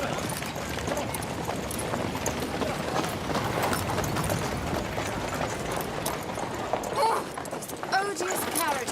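A horse-drawn carriage clip-clops past on a town street, hooves and rolling wheels steady beneath conversation, with voices talking over the passing traffic.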